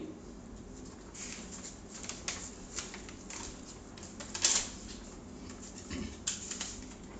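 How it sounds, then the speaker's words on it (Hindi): Pen scratching and tapping on paper as a lecturer writes out vernier caliper working on a fresh page, soft close scratches and brief clicks over a quiet room hum, no talking. "दूसरे पेज पे मैं लिख देता हूं इसके लिए"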